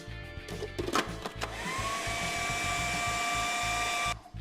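A food processor blends a vegetarian meatloaf paste, starting with a few choppy bursts, then settling into a steady high-pitched whirring motor drone for several seconds before stopping.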